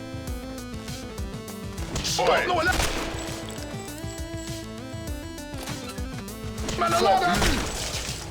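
Laser gunfire bursts in the video game Not A Hero, with two dense volleys of crackling shots and impacts over a busy game soundtrack.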